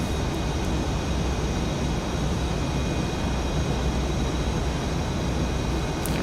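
F/A-18 Super Hornet in the VRS Superbug flight simulator on an afterburner takeoff, lightly loaded: a loud, steady, full-bodied jet roar from cockpit perspective, unbroken throughout.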